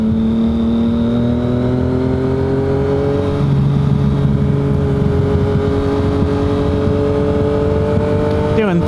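A 2019 Yamaha MT-09 motorcycle accelerates through its gears, engine pitch climbing steadily in a loud, close whine with gear shifts, wind noise throughout.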